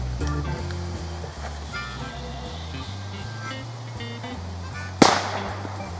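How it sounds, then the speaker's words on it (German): A single sharp firecracker bang goes off near the end, cutting through a steady low engine-like hum that runs underneath the whole time. "bis ein Böller losgeht"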